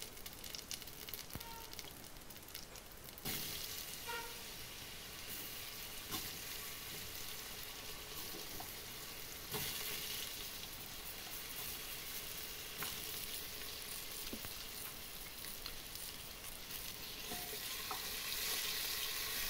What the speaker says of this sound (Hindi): उसमें जीरा डाल के इन सब्जियों को मैं भून लेती हूँ।